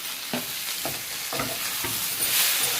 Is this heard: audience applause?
no